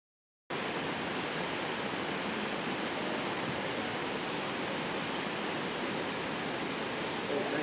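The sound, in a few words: waterfall near Chamje lodge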